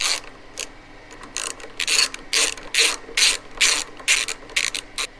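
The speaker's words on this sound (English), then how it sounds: "I'm just gonna go ahead and snug them up with a ratchet" A hand ratchet snugs up the front brake caliper bolts on a Harley Davidson touring motorcycle, giving about ten loud, close bursts of rapid clicking in an even back-and-forth rhythm.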